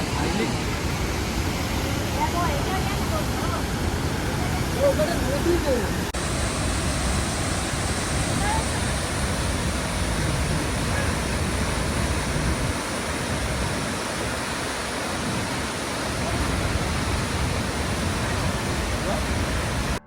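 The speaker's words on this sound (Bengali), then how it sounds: "এখানকার প্রতিটা ফলসই কিন্তু ভীষণ সুন্দর।" A waterfall in remote terrain roars as a steady, loud, broad rush of falling water, continuous and close throughout with no clear breaks.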